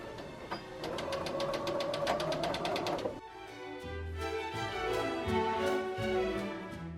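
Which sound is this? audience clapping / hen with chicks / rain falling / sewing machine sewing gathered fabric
sewing machine sewing gathered fabric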